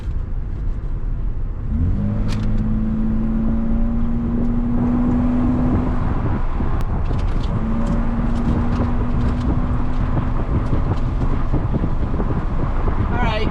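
A first-generation Toyota Tacoma pickup with an Airaid intake revs up and accelerates in two rising pulls, a steady drone under heavy wind buffeting, with faint talk in the background.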